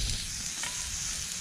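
Food sizzles steadily in hot fat on a camp grill, a constant crackling hiss close by with a brief scrape partway through.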